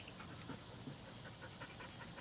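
Dogs panting faintly and steadily, a soft continuous run of quick breaths close by with no talking.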